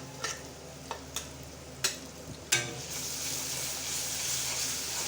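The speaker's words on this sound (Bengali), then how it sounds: "একটু ভালোভাবে পাঁচ সাত সেকেন্ড আমি ভেজে নেব" Onion with pastes of onion, ginger-garlic, chili powder and cumin frying in a pan, a steady hiss that swells louder after a few sharp scrapes and clatters of stirring, with no talking.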